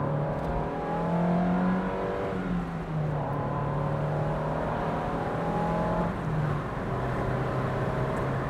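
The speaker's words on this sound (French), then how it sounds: "je réaccélère un peu" A small car on original 14-inch wheels accelerates again after leaving a roundabout. Its engine drones steadily and close, rising in pitch through the gears with brief dips at the shifts, and no one speaks over it.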